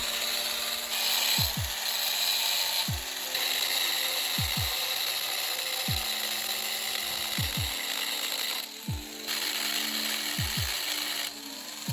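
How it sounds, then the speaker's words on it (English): Rusty truck bed brackets being cut off a frame rail with a power tool: a loud, continuous, harsh mechanical roar with a few brief dips, alone without talk. "I'm going to start off with just cutting these off the frame rail."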